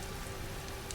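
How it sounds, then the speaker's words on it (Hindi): Steady rain pours down through the night, a dense continuous hiss of drops on surfaces with no break and no voices. "लगता है ये बारिश रात भर रुकेगी नहीं।"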